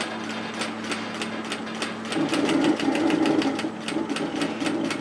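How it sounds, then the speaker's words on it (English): A sewing machine edge stitches a curved seam on a cocoon-style cardigan shrug, its needle chattering in a fast steady rhythm that grows louder and denser partway through, close up with no talk. "just be careful to make sure that you stitch in that curve"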